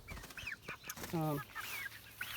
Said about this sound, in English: here are the baby chicks